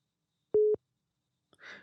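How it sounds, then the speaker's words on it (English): A single short electronic phone beep, clean and steady, rises out of silence, followed by a soft breathy vocal sound. "I hear somebody's phone beeping."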